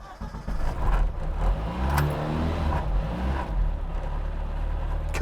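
Classic Mini Cooper with a Specialist Components twin cam 16 valve BMW K head engine and straight cut gears, revving up loud and close with a droning, whining engine note and rising pitch, then holding steady.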